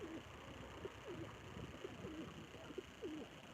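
Soft, low pigeon coos repeat every half second or so over a steady hiss of background noise, fairly quiet and slightly distant.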